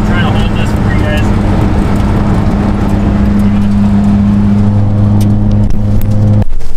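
A Mitsubishi Lancer Evolution X with a fuel pressure fault, its loud engine droning steadily while driving, with someone talking over the noise; the drone cuts off abruptly near the end.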